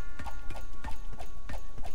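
Evil cows in the video game Book of Demons stomp along in a steady run of heavy, clopping hoof-like thuds, roughly three per second, over sustained droning music tones with no talk.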